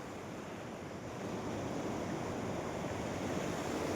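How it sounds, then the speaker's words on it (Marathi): Water from the Panchganga river rushes through the breached north side of the Shirol dam in Kolhapur, a steady, dense roar that swells slightly louder partway through. "बंधाऱ्याची उत्तरेकडील बाजू पाण्याच्या दबावाने वाहून गेल्याने मोठ्या"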